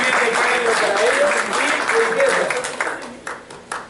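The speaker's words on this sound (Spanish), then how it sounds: "un aplauso para nuestros panelistas" Applause for panelists at an electoral reform debate in Guatemala, a loud burst of crowd clapping that thins and fades toward the end into scattered claps, with a voice heard faintly underneath.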